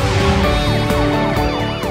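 An emergency vehicle siren on a Korean road wails loudly and continuously, its pitch sweeping up and down in repeated cycles, close and dominant with no talk.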